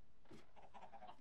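A baby chicken in the Minecraft video game gives a short series of faint, high chirping peeps over quiet background sound.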